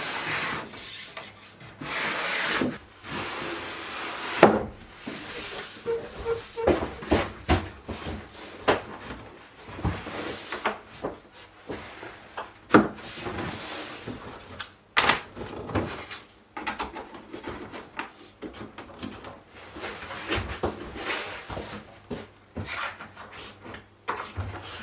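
A wooden gate panel slides into a side groove, producing repeated rubbing and scraping bursts of wood on wood, some loud knocks among them, heard close and on its own with no talking.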